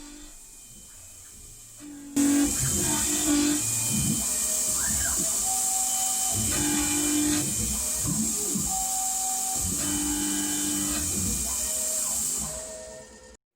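A milling machine fitted with a spacer runs through its axis travels, giving a steady loud hissing whine with shifting mechanical tones and intermittent clunks, continuous for about ten seconds before fading out.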